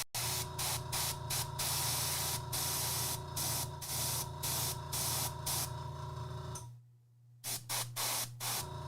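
An airbrush spraying in loud hissing bursts, mostly sustained with rapid on-off trigger pulses, a brief pause near the end, then several short, quick blasts; close and continuous, no voices.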